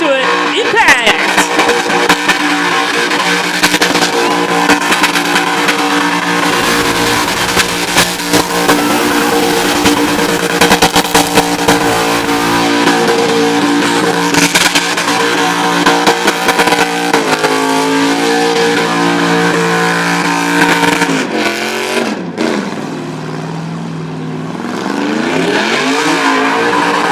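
A car doing a burnout at Red CentreNATS, its engine screaming at high revs with squealing tyres in a loud, sustained howl, dipping and climbing again near the end under faint commentary.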